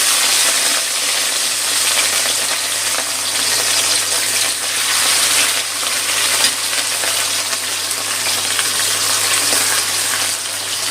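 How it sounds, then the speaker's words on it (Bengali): Rohu fish fries in hot mustard oil in a wok on a low gas flame, giving a loud, continuous, dense sizzle with a steady hiss throughout and no voices. "মাছটা ভাজা হতে থাক।"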